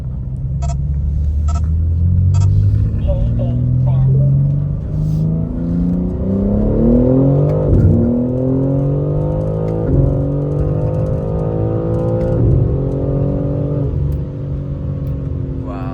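A 2025 BMW G80 M3 LCI with a CS flash tune accelerates hard through repeated gear changes, its engine note climbing, dropping at each shift and climbing again over about fifteen seconds, loud and close from inside the car.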